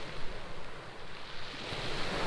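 Waves breaking on a shingle beach on the Sussex coast, a continuous, fairly faint wash of surf mixed with wind noise, with no voices.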